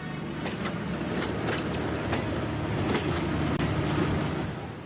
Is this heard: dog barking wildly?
no